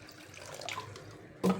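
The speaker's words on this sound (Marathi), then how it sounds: "आणि ह्याला आता पाणी टाकून धुवून घ्यायचं आहे एकदा स्वच्छ" Soaked millet and sago being rinsed in water, a soft close sloshing and trickle with a brief louder splash near the end.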